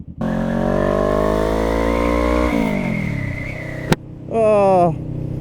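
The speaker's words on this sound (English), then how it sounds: "She's my little 471cc engine that I love dearly." A Honda Rebel motorcycle with a 471cc inline-two engine runs close by, holding a steady idle hum before the pitch shifts, then a sharp click and a brief rising rev near the end.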